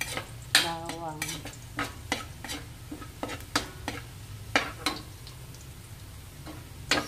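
Garlic sautéing in a pan, a continuous sizzle with rapid scraping and tapping of a utensil against the pan, close up with no talking.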